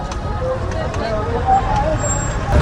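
Heavy crowd of motorbikes crossing a bridge over the Kansai river during the Tusu fair at Makar Sankranti, with a continuous close traffic rumble and engine drone and faint voices underneath.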